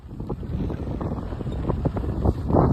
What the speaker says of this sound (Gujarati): પવન એટલો બધો છે